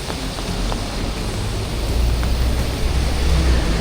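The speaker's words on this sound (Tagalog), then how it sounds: "Grabe, hanggang ngayon umuulan pa rin po, halos buong araw na ay umuulan." Steady, continuous rain falls during a full day of downpour at a flood control construction site along a river, a dense broadband hiss that swells slightly louder toward the end with no voices.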